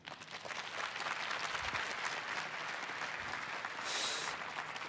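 Applause from a seated audience after a speech at a youth forum, a soft, distant patter of many hands that carries on evenly and stays faint throughout.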